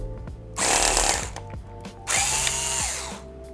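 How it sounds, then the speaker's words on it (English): A small electric screwdriver backs out the screw holding the Wi-Fi card inside an Acer Chromebook C733, whirring in two short close bursts with a brief pause between. "To disconnect the Wi-Fi card, you might have to take out the screw that's holding the Wi-Fi card in."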